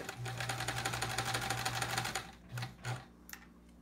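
A sewing machine stitches in a fast, even mechanical rattle while piecing a sampler quilt with the bobbin running low, then stops and restarts in a couple of short bursts, recorded close by.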